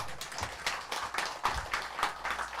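Audience applause at a Buddha's Birthday temple service, a short burst of scattered clapping from a small crowd, fairly faint and somewhat distant.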